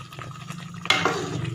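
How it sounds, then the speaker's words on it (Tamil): Water is poured into a pot of drumstick tamarind curry with masala, arriving as a sudden splash and gush that continues as bubbling liquid over low background noise. "மசால் போட்டு கொஞ்சம் 5 நிமிஷம் கழித்து இப்போ தண்ணி ஊற்றுறோம்."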